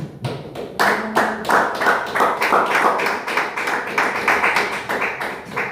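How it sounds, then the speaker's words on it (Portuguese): A church congregation claps its hands together in a steady, loud, rhythmic run of claps, filling the room for several seconds. "E aquelas palmas que exaltam Deus."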